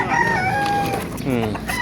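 A rooster crows nearby at a chicken market in Bocaue, a loud drawn-out call with a rising and falling tone, over low background noise.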